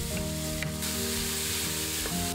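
Chopped onions fry in butter and vegetable oil in a large pot over medium heat, giving a steady, close, even sizzle throughout with no voices.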